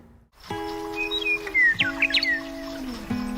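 A western meadowlark's bright, whistled song phrases ring out over a steady low instrumental music bed, clear and fairly close, with a few quick warbling notes.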